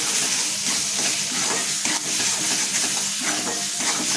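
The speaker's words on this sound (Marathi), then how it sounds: "एक दोन मिनटं वाटण्यामध्ये आपल्याला हे परतून घ्यायचं आहे" Bean curry with masala sizzling and being stirred in a hot pan, a constant close frying hiss with soft scraping stir strokes, loud and alone without any voices.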